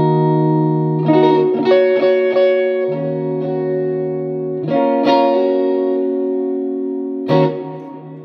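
Electric guitar chords ring out through an Orange Crush 60 1x12 solid-state amplifier, each strum leaving a long, spacious hall reverb tail that slowly fades between hits.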